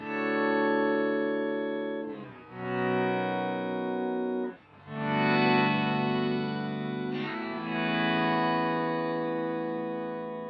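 An electric guitar runs through an Eventide H9 fifths pitch-shift effect, playing three sustained, harmonically dense chords with a stacked interval shimmer, each ringing out before the next is struck.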